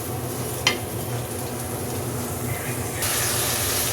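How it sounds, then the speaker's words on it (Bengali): Kohlrabi is sautéed in a pan after fish has been fried in it, a continuous sizzle with a sharp utensil clack early on and the hiss growing louder near the end. "এখন আমি এর মধ্যে ফুলকপিটা দিয়ে ভালো করে কষিয়ে নেব।"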